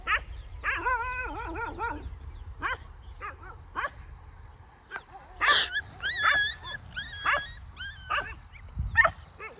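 A puppy and its mother bark in scattered bursts, mixing sharp yips and higher whimpering barks, fairly close, with short pauses between.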